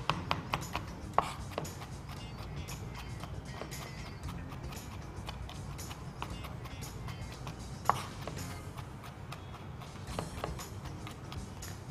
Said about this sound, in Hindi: अब मज़ीद इसको लहसुन को मैं चॉप कर रहा हूँ